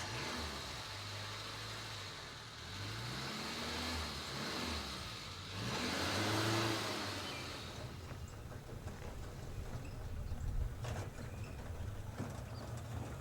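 A car travels a long road in northern Kenya, a low steady engine drone rising and falling through the whole stretch, heard from inside at moderate level with no voices.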